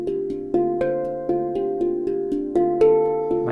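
Plucked harmonic notes with the mid frequencies cut entirely by EQ, a steady sequence of repeated attacks that sounds thin and hollow, with no voices.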